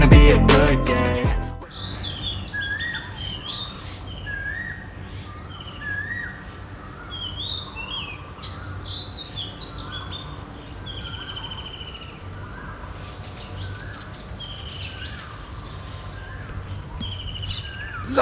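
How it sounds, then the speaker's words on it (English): Morning birdsong in the Thai countryside, with several birds chirping and whistling short repeated phrases at middle distance over a quiet hum, following a brief loud burst at the start. "Love a bit of morning bird song."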